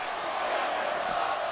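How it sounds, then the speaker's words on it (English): Wrestling match crowd noise fills the arena in a steady, dense roar of cheering that holds at an even level for the whole stretch, with no clear individual voices standing out. "And the crowd is cheering."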